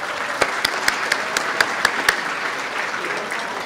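Audience applause at a mosque's pre-Ramadan banquet, a broad crowd clapping with a few sharper, closer claps popping out over the steady patter.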